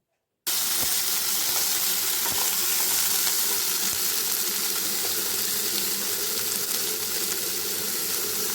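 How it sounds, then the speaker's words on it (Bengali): Boiled baby potatoes dropped into hot mustard oil in a kadai, a loud steady sizzle that starts abruptly and keeps up as an even bright hiss with a few faint clicks. "তেলটা গরম হয়ে গিয়েছে, তাই আমি এখন এর মধ্যে সেদ্ধ করে রাখা ছোট আলুগুলো ছেড়ে দিলাম।"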